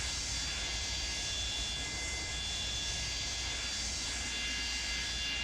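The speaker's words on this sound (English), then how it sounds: "Just even the sounds under this engine right here, that's got to be pleasant." A Boeing 727F freighter jet engine runs in the Flight Sim Studios add-on for a flight simulator game, heard from just beneath the engine as a loud, steady, unbroken roar with a high whine laid over it.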